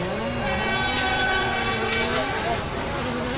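A 700-horsepower 2JZ-engined drift car runs at a British Drift Championship event at Driftland, its engine a loud, sustained drone with shifting pitch, heard steadily throughout.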